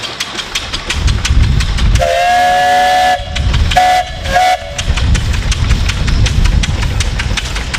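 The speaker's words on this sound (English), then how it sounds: "And I want to hear the whistle on the Gar Scott." Close and loud, a Gaar-Scott steam traction engine in a threshermen's reunion parade blows its steam whistle in one long blast and then two shorter toots. Chuffing exhaust and mechanical clatter run beneath and between the blasts.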